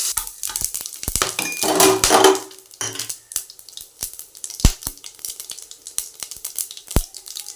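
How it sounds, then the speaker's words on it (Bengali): Soya chunks fry in chicken fat and oil in a pan alongside potatoes, with a crackling sizzle and scraping stirring early on, then sporadic sharp clinks and taps of utensils against the pan. "আমি এই তেলে সয়াবিনটাও ভেজে নিচ্ছি একটু লাল লাল করে।"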